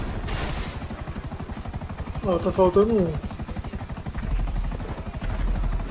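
Helicopter rotors in GTA V Online chop in a fast, steady thumping rhythm throughout, while someone talks briefly over them.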